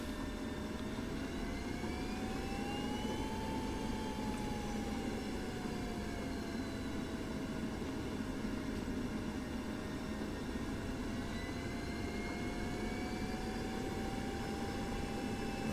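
Aircraft engine taxiing in the DCS flight simulator, a steady loud jet whine and roar with a slowly wavering tonal pitch, continuous and unbroken with no talk.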